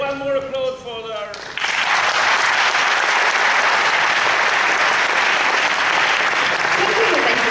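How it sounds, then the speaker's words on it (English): A voice speaks briefly before a dense burst of audience applause erupts at a university event with Nobel laureates, the clapping loud and steady to the end. "Now we have one applause for the audience, right?"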